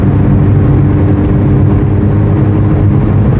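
A 1980 Volkswagen Scirocco GLS MK1 with a 1600 engine drives along, its loud, steady low engine hum and road noise heard from inside the car, continuous and without talk.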